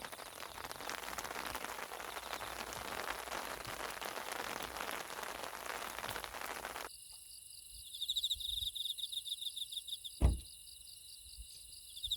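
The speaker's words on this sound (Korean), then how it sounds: "지금은 또 이제 밤 10시 되니까 비가 엄청 많이 옵니다." Heavy nighttime rain at a fishing spot in Hwado-myeon, Ganghwa, Incheon, a dense steady patter for several seconds that gives way to chirping crickets and a sudden thump, no talking.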